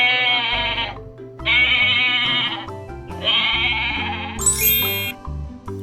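A sheep bleats loudly three times in long wavering calls, each ending in a short pause, followed by a higher, thinner bleat, close and with nothing else heard.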